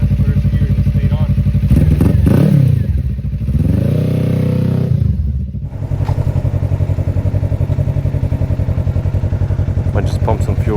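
A Suzuki GSX-R motorcycle engine idling in gear, a loud steady close thrum with a brief throttle blip and mechanical clunks as the gears are shifted. A voice talks over it.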